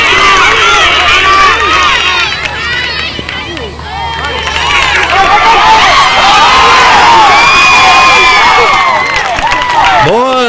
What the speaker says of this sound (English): listen to that crowd get excited